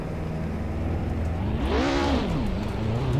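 Race car engine in the Assetto Corsa racing game, with the driver getting on the throttle early out of a chicane; a steady near engine drone rises and falls in pitch as it revs, heard alone.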